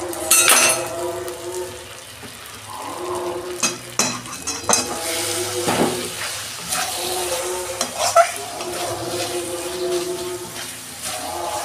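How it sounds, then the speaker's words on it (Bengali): Spice masala of turmeric and hot chilli sizzles in oil for a Bengali chicken and potato curry, with steady frying hiss, repeated scraping stirs and occasional clinks of a utensil against the pot, close and moderately loud. "মশলাটা একটু কষছে নেবো আর একটু"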